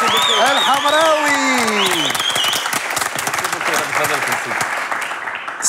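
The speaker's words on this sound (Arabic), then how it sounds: "تصفيقة كبيرة" A television studio audience bursts into loud, sustained applause with some cheering, rising over a host's voice and then continuing as dense, steady clapping.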